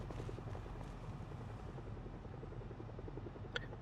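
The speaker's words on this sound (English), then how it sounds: "Okay, no, there's the helicopter." A helicopter in the zombie survival game Project Zomboid drones steadily overhead, a continuous low rumble with faint rotor pulsing and one brief click near the end.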